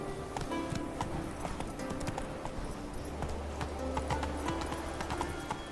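Horse hooves clip-clopping steadily in The Witcher 3 video game, a continuous rhythmic trot under a busy game soundscape, with a brief whinny-like sound mixed in.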